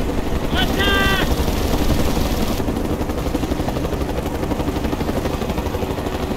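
Helicopter rotor drone and bursts of gunfire in the video game Mercenaries 2, a loud continuous mechanical roar with a brief chirping sound early on.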